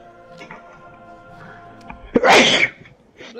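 A single loud, close sneeze bursts out near the middle of a quiet stretch in a video game horror scene, with faint background tones and rustle before and after it.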